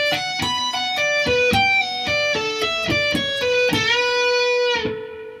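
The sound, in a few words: electric guitar playing intro solo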